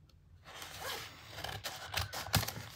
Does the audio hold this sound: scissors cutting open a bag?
yes